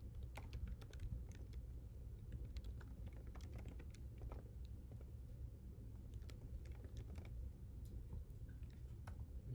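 Fingers typing a command on a computer keyboard, steady irregular key clicks in quick runs, close and quiet, with no talking.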